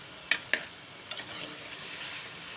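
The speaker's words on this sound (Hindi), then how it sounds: "इसको फ्राई कर रही हूँ अब ऑयल में" Chicken pieces fry in hot oil, giving a soft, fairly faint sizzle, with two sharp spoon taps near the start and a few light scrapes after.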